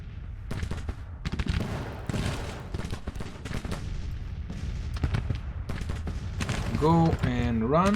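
Civil War musket volleys and artillery fire in the Grand Tactician battle game crackle and boom continuously in a dense, rolling fusillade at the Battle of Clarksburg. Someone speaks briefly over the gunfire.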